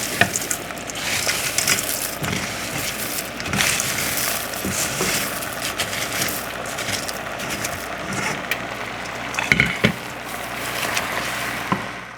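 Chopped spinach sizzles and crackles steadily in a hot pan, with scraping and stirring clatter of a utensil rising over the frying hiss.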